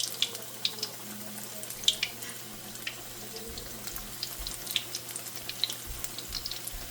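Pakora batter spooned into hot oil crackles and sizzles softly in a steady, faint frying hiss with scattered small pops, no voices.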